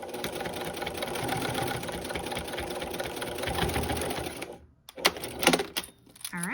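A sewing machine stitches around the edge of a round potholder, a rapid, continuous mechanical whir and clatter that runs steadily, stops abruptly for a moment, then resumes in short bursts.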